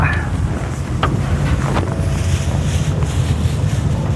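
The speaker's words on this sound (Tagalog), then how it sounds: "Yan ang problem, malakas ang hangin." Strong wind buffets an outdoor microphone in loud, continuous low rumbling gusts, with faint sharp background sounds poking through now and then.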